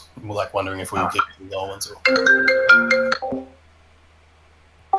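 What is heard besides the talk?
phone ringing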